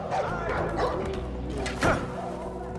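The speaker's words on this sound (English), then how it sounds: "Get out of here, doggy." A dog barks a few times in the Far Cry 4 video game, short sharp yaps and whimpers at moderate volume, with a voice talking over them.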